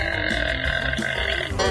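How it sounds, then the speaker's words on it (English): Long, loud burp heard up close, a continuous guttural eructation lasting nearly two seconds with no talking. "I need to burp. Here it comes."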